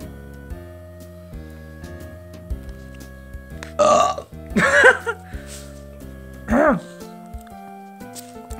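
Several loud, raspy burps, three close bursts in a row, over a background of simple game music with steady melodic notes.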